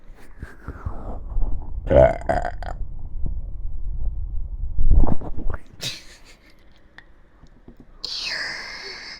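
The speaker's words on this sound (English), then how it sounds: "I need a burp." A single close, breathy burp sounds early, followed by soft rustling, mouth noises and a brief higher squeak near the end in a quiet indoor setting.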